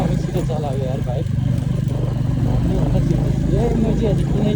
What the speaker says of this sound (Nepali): कस्तो दामी छिटो चलायो यार बाइक